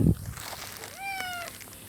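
A cat in a home garden in Antalya gives a single clear, rising-then-falling meow, close and fairly faint, after a brief thump, over a quiet outdoor background.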